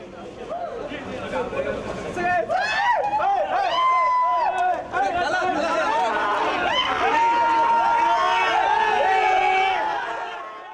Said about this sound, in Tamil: அஜித் ரசிகர்கள் தங்களது மகிழ்ச்சியை நடனமாடியும் ஆரவாரம் செய்தும் வெளிப்படுத்தினர்.